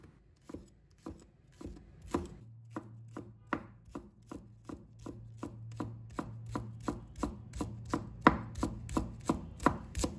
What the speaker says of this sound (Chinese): 把葱白和葱叶分开切，葱白切成小粒